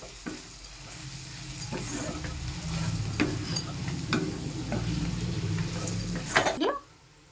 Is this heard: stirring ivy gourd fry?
yes